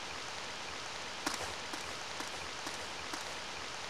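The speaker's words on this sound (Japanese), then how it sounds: "雨か。" Steady rain falls in the Tales of Legendia video game, a soft even hiss with a few faint drip-like ticks, fairly quiet and with no speech.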